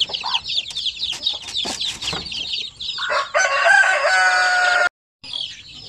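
Native Zampen chickens on a Philippine farm: close, busy clucking and chick peeps, then a loud rooster crows in a long drawn-out call that cuts off abruptly before the flock resumes.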